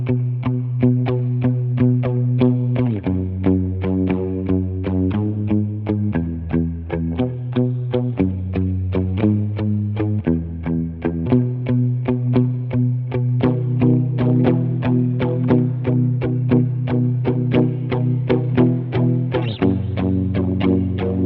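Palm-muted lead electric guitar playing a worship song verse through effects including distortion, chorus and echo, a continuous chugging rhythm of tight repeated notes with shifting pitches, loud and steady throughout.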